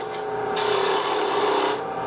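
A woodturning gouge rides its bevel on a spinning wooden icicle ornament on the lathe, cutting a bead with a steady close scraping hiss that swells briefly in the middle.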